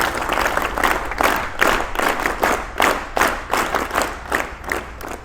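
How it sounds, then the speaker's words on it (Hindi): A school audience applauds an award-winning guest with rhythmic, pulsing group clapping, loud and close, swelling and dipping in waves over several seconds. "जोरदार तालियों से इनका स्वागत किया गया"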